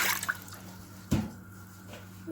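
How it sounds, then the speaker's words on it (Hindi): A glass of water is poured into a clay cooking pot before mutton liver is added, giving a few soft splashes and drips with one sharper splash midway, quiet and close in an indoor kitchen. "इसके लिए पहले 1 गिलास पानी ऐड कर लें।"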